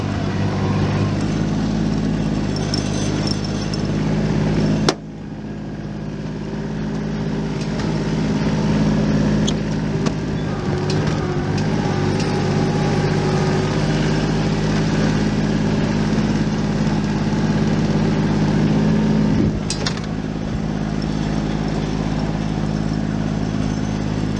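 A tractor engine runs steadily in a carrot field, a loud continuous low rumble that drops briefly near five seconds and again around twenty, with no talk over it.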